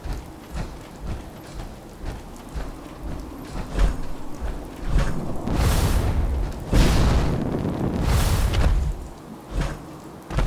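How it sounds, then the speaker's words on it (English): Rocket boosters on power armor in Fallout 4 roar in long, loud rumbling bursts, with deep booming rushes that swell and fade over a steady noisy bed. "I have the rocket boosters in my power armor."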